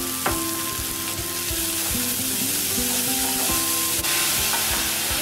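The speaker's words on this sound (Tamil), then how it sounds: "இப்போ உப்பு போட்டு நல்லா கலந்து விட்டுட்டேன்." Vegetables for vegetable somas fry in a pan with salt, a steady close sizzle running throughout while a utensil stirs and scrapes with a few sharp knocks; no voices.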